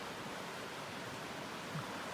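A river rushing past during an Appalachian Trail hiking ford, steady broadband water noise filling the whole stretch at a moderate, unchanging level with no voices.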